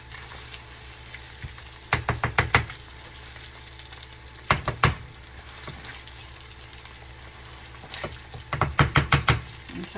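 Cream cheese melting in a pan while being stirred, a quiet sizzle broken by three quick bursts of rapid knocking and scraping strokes from the utensil against the pan.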